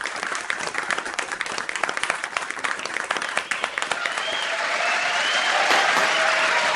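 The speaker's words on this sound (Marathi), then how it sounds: "जोरदार टाळ्या वाजवा आपल्या चॅम्पियन साठी" Sustained audience applause honours the first champion of a 2025 East Indian Catholic competition, dense clapping from a crowd that swells and holds steady at close range.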